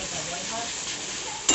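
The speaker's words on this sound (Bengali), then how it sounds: "ফুটছে দেখছো, চাল ডাল," Rice with moong and masoor lentils boils in a pot, a steady, moderately quiet bubbling hiss that ends with a brief clink of metal.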